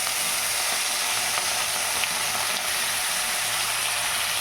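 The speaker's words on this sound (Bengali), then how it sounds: "মাছগুলো আমি তেলের মধ্যে ছেড়ে দিলাম।" Giant river prawns dropped into hot oil in a kadai, a continuous, even sizzle and crackle of frying with faint stirring clicks, close and steady.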